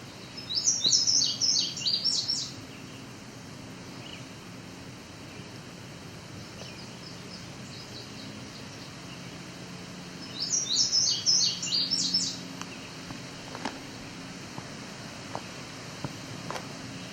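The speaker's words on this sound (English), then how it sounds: "So our vireo is non-stop as usual." A red-eyed vireo sings two bursts of high, chirping phrases outdoors at Otter Lake, the first near the start and the second about ten seconds later, with quiet rustling ambience in the gap and no talk.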